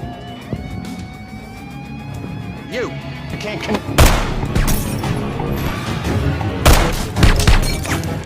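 Movie gunfight between mafia gangsters and a tattooed man, with bursts of gunfire and heavy booming impacts erupting over a tense score, loudest sharp blasts near the middle and end, while a voice narrates throughout.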